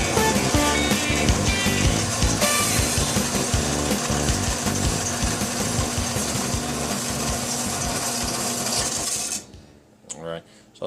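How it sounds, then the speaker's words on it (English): A saw cuts off the handle of a vice hand-wheel from a Ridgid 4x6 bandsaw in a workshop, a loud steady grinding rasp that runs for about nine seconds, then stops, leaving faint clatter. "We'll go ahead and cut that off."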